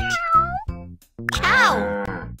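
A cat meows twice, clear and close, the second cry longer and rising, with a short silent gap between them.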